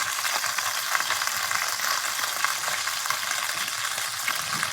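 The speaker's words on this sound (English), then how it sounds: "You get a lot of violent splattering in the beginning" Chicken bones sear in a hot pan with violent, steady splattering, a loud continuous hiss and crackle at close range, with no voices over it.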